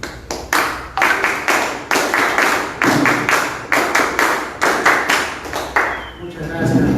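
An audience at a municipal conference on mining revenue and anti-corruption breaks into sustained applause, mixed with sharp rhythmic clapping that swells and fades in loud waves for several seconds.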